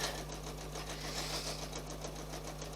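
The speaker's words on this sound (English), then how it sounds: "sewing with a straight stitch, and it is literally working itself" A sewing machine runs a straight stitch on its own around a circle, producing a steady, even mechanical whir with a fine rapid rhythm over a constant low hum, close and unbroken throughout.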